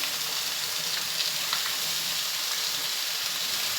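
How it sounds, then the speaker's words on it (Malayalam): Chopped mushrooms frying in a pan of spiced masala with roasted rice and coconut pieces, giving a steady, close, even sizzle throughout with faint crackles and no talk. "അതിനകത്തോട്ട് നമുക്ക് കൂമൾ അരിഞ്ഞത് ഇട്ട് കൊടുക്കാം"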